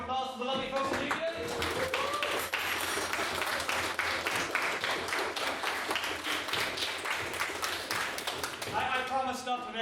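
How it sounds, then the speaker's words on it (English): An audience at a debate gives a round of applause, with dense, even clapping filling most of the stretch; voices and rustling come through at the start and end, and the level sits moderately low. "can we get a round of applause for the lovely folks in the UK?"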